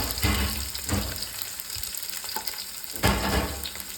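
Garlic frying in hot oil for beef pickle, a loud, close, continuous sizzle with a few sharper bursts as it is stirred, and no voices.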